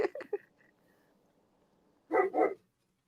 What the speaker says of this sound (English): you can hear the dog talking to the neighbor's dog